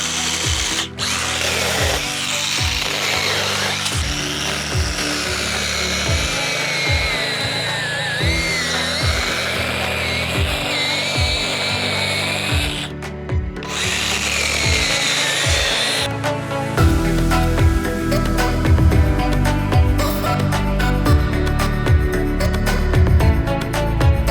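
A battery-powered Dnipro-M CS 12 mini chainsaw whines steadily while cutting pear wood, its motor pitch wavering under load with rhythmic pulses, then shifting to a different cutting tone near the end.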